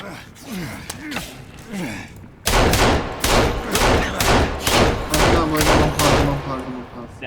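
Rapid gunfire empties a magazine in the survival game Sons of the Forest, a burst of about ten loud, evenly spaced shots following gasps and excited talk from players.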